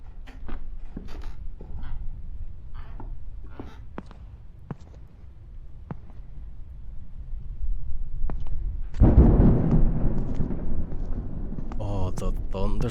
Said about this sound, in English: thunderstorm outside,